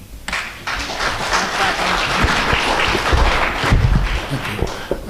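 Applause breaks out from an audience at a city council meeting, a dense, steady patter of many hands clapping nearby that swells and holds for about five seconds.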